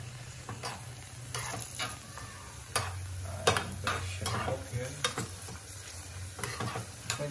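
Nuts and raisins are fried and stirred in a pan for firni, with a steady soft sizzle broken by repeated scraping clicks of a spoon against the pan, close and fairly quiet.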